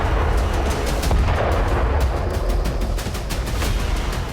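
Bombardment in southern Lebanon where stored rocket launchers and drones were destroyed, heard as a dense, continuous roar of blasts and crackling gunfire-like bursts, loud and sustained throughout.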